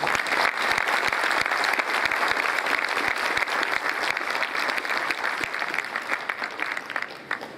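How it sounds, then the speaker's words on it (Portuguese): A warm round of applause from the audience at a panel event, greeting minister Kassab: dense, steady clapping from many hands with a few crisp claps nearby, easing slightly toward the close. "Então eu queria receber uma calorosa salva de palmas ao nosso ministro Kassab"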